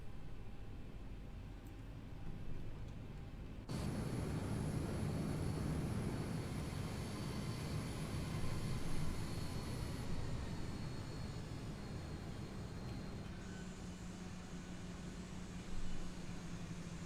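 Boeing 737 (Zibo 737) in the X-Plane 11 flight simulator taxiing out at Dallas Fort Worth, a steady broadband engine rumble and hiss that swells abruptly a few seconds in and holds at a constant level, with no talking.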